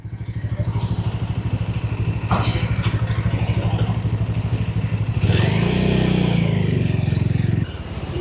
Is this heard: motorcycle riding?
yes